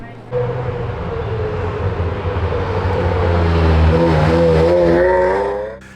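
Modern classic cars, such as Porsche Boxsters and Ferraris, drone and rev as they pull away from a London park, a steady motor hum rising in pitch toward the end, with voices faintly beneath.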